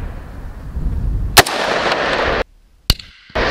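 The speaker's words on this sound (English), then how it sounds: "As I missed the first shot." A PSA AR10 rifle fires at a 300-yard target: two sharp, loud reports about a second and a half apart, each with a short trailing echo over outdoor background noise.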